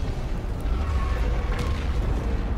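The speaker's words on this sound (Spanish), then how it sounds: "Diría que la detonación está confirmada." A refinery tower explosion in Call of Duty Infinite Warfare rolls on as a heavy, continuous low rumble with crackling bursts layered above, loud and sustained for nearly three seconds without speech.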